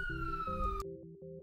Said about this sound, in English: And why is there a siren?